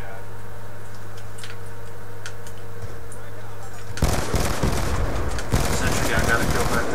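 Sustained automatic gunfire from a sentry gun in a capture-the-flag match on the Standoff map, erupting loud after a quiet stretch and hammering on in dense bursts.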